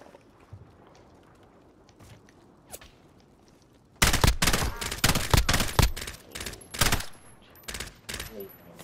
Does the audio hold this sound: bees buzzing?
no